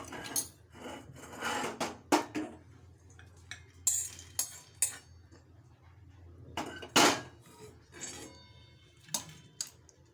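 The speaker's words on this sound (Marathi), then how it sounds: "आता मी एका बाऊलमध्ये काढून घेते" Roasted cardamom pods being tipped from a pan into a bowl in a home kitchen while making tea masala: scattered close clinks, taps and rattles of metal utensils and pods in irregular bursts, with no talking.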